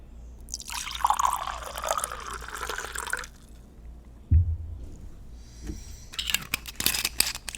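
A drink poured into a glass, a liquid trickle and fill that runs for a few seconds close by, followed by a low thunk and later scattered clinks and sounds of handling.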